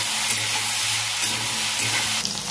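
Ivy gourd frying in mustard oil gives a continuous close sizzle with faint bubbling and a few light stirring scrapes, no one talking.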